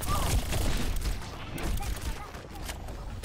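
Rapid bursts of gunfire from a shooting fight in the video game Overwatch, fairly quiet and mixed with other game noise throughout.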